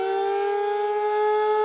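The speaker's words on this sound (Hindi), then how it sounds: "हवाई हमलों की वार्निंग देने वाले सायरन बजाए जाएंगे, जैसे इस वक्त बज भी, आप सुन भी पा रहे" A steady civil defense air raid siren wails at a constant pitch during a mock drill, loud and sustained, with no voices over it.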